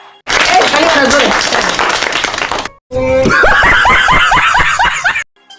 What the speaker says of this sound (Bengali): সবাই ধরে তালি মারেন।